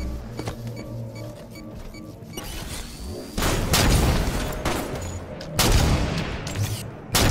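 Sniper rifle fire in a Call of Duty-style first-person shooter during a snipers-only one-on-one match: two loud, sharp shots cracking out a couple of seconds apart over a busy bed of clattering game noise.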